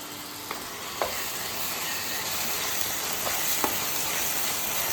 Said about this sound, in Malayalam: കുറച്ച് കറിവേപ്പില നമുക്ക് ഇളക്കി കൊടുക്കാം.